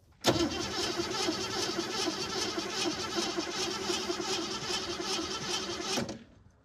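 A 1969 Ford Mustang V8, rusted and neglected for 27 years, cranks and catches, then idles with a steady, loud, rough rumble that runs about six seconds before stopping sharply.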